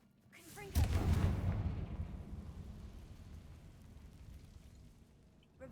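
The Confringo fire-blast spell exploding in the Hogwarts Legacy video game, a single deep booming blast that swells quickly and then rolls and crackles away over several seconds.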